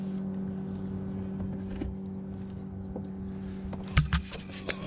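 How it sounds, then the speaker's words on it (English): An electric Autoboat motor on a Jackson Big Rig FD kayak at Willow Beach runs with a steady, close, even hum, broken by a brief knock and splash near the end. "Let's see what the motor does."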